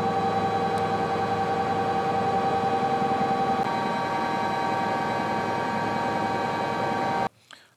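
Helicopter flying to an offshore oil exploration rig in the Atlantic, a steady loud whirring rotor and engine drone that holds for several seconds, then cuts off abruptly.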